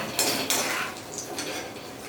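A spoon scrapes and clinks against a pan while scooping out fried raw papaya and dried fish chutney ingredients, a few close metallic knocks followed by softer scraping.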